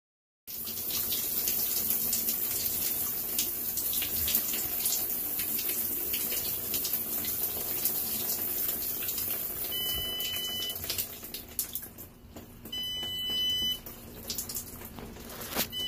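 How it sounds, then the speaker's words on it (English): Shower water runs steadily and loudly throughout as a broadband hiss, with a few short electronic beeps from an Arduino shower timer near the end. "I'm gonna take a shower."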